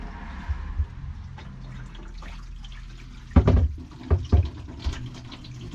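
Water runs and drains through a camper van sink's drainage system, a low steady wash of flow with a few louder gurgling splashes near the end.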